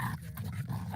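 A pet dog lets out a short, close growling bark, a single rough vocal burst under a second long in a quiet room.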